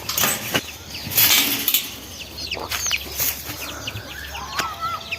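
Backyard chickens at a rural home in Nepal give short clucks and bursts of wing flapping, close by and moderately loud, with birdsong and faint rustling in the background.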